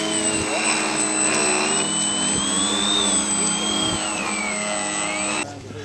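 A scale model aircraft engine runs loud and steady while the plane taxis at an outdoor model show, its high whine wavering in pitch as the throttle shifts, with people talking over it.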